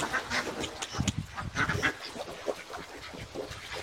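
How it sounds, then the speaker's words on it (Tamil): A flock of ducks on an agrotourism farm keeps up a busy, overlapping chorus of quacks at moderate distance, with a steady outdoor background. "ஒரு சின்ன வாத்து கூட்டம் இருந்தால் நல்லா இருக்கும்"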